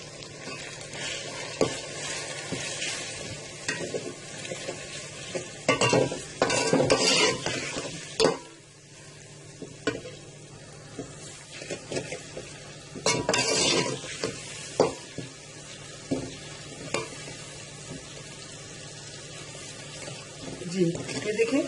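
Masala spices fry in a pan for mutton haleem, with soft sizzling under repeated scraping and clinking of a spoon against the pot, in bursts of vigorous stirring and quieter pauses, and a voice speaking at times.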